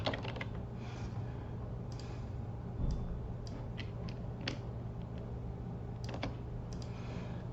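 Scattered keystrokes on a computer keyboard, irregular and fairly faint over a steady low background hum, with no talking.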